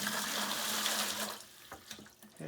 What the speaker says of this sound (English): empty the residual water